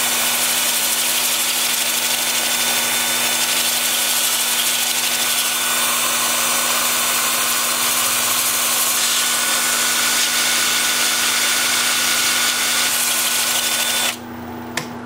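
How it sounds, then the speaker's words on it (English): A wood lathe runs in reverse at around 375 rpm while a thin slab is turned, a steady continuous hum and whir that holds throughout before cutting off abruptly near the end. "with the lathe spinning in reverse at about"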